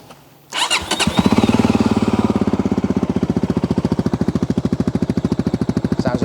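A VOGE 300 Rally motorcycle cranks over and fires up, settling into a loud, close, steady idle with a raspy, rapid pulsing beat that continues alone.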